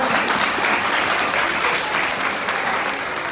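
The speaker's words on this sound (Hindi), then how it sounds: "जोरदार ताली होनी चाहिए" Loud, dense applause from an audience at an Independence Day event, steady hand clapping that carries on without break and eases slightly near the end.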